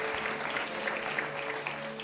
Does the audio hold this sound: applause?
yes